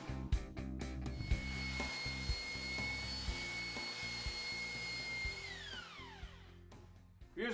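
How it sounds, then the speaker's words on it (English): A belt sander works excess dried glue off a laminated cherry wood mirror leg, a steady motor whine with a high tone under gritty abrasive rasping and bumps, winding down with a falling pitch near the end. "We're using the belt sander to get rid of some of the excess glue that squeezed out while our leg was drying in the form"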